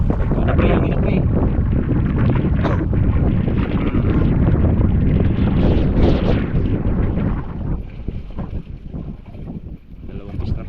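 Wind gusts over a small fishing boat at sea while a catch is checked, a loud steady roar with buffeting across the whole clip that eases slightly near the end.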